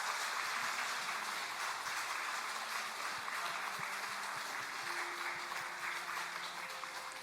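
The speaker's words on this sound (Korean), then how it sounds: "박수로 격려해 주시기 바랍니다" A church congregation claps to encourage a young scholarship recipient at a Sunday service award ceremony, the applause moderate and steady, slowly fading toward the end.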